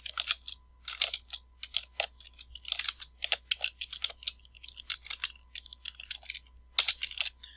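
Fast, light keystrokes on a computer keyboard entering a text label, a steady run of close, crisp clicks in irregular bursts with brief pauses, quiet and without any voices over a faint low hum.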